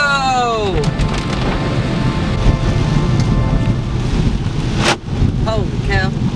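A thunderstorm brings heavy rain and gusting wind buffeting the microphone, forming a loud continuous wash, with a sharp crack-like burst near the end and people talking through it.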